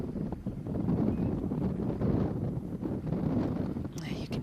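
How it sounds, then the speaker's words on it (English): Strong gusts of wind buffet the microphone on an open golf course during a women's amateur championship semi-final, a steady roaring rush with swells and dips throughout. "It's gusting out there."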